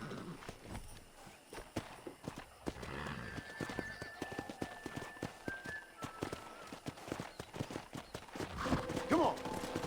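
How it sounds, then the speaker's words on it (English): Horses in the Western game Red Dead Redemption neigh and whinny while hooves clip-clop in a steady walking rhythm, with a voice speaking over the animals and a louder whinny near the end. "Let's see if we can't wrangle some horses."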